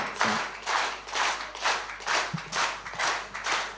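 Applause from a concert audience at a performance by an ashik folk singer, a steady crowd of clapping that rises and falls in roughly half-second waves for about four seconds, with no talk over it.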